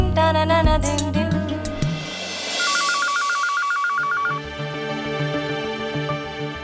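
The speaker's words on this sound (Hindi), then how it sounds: "राशि के पापा फोन उठाइए" A telephone rings in a household, a repeated electronic trilling tone standing out clearly over music and background sounds, with no talking.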